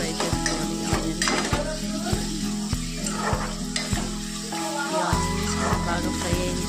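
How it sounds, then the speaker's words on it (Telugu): Onions fry for a chicken curry, giving a dense, steady sizzle with occasional utensil clinks against the pan, under rhythmic background music. "ఇలా ఫ్రై చేసుకోవాలి ఆనియన్స్."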